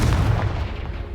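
A Confringo spell explodes in Hogwarts Legacy as a short, loud, low-pitched boom with a rumbling tail, heard alone.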